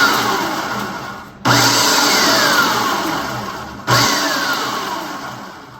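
A food processor loud and close pulses breadcrumbs for a pie crust in three whirring bursts. Each burst starts abruptly, and its motor pitch sags and slows before the next restart.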